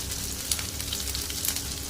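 Marinated tilapia frying in hot oil gives a steady, dense sizzle with fine crackling spatters, close up and continuous, with no voices.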